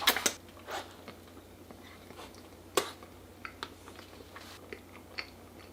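Cake topped with chestnut cream being chewed and bitten, a sharp crunchy bite at the start followed by soft, quiet mastication with occasional small clicks, close up and alone.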